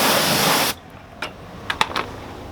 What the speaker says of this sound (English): I'm gonna go ahead and rinse it down just a little bit more.